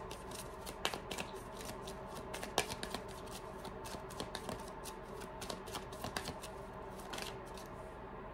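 Tarot cards being shuffled and drawn at close range: a continuous papery riffling with sharp flicks and snaps as cards are cut and laid down, quiet and unbroken by speech.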